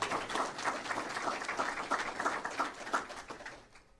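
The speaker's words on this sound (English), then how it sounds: "yeah, you can clap for that." Audience applause at a live press briefing, a dense steady patter of clapping from a room of people that holds for several seconds before thinning out at the end.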